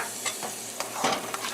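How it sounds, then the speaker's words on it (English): Cream of wheat parsad being stirred as milk is added, with a close, steady scraping and swishing of the spoon through the pot and a soft sizzle underneath, with no talking. "And you just want to keep stirring until everything evaporates."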